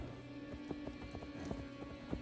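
A horse gallops in Assassin's Creed Valhalla with steady, rhythmic hoofbeats that clop quickly and evenly. The sound is fairly quiet and heard alone.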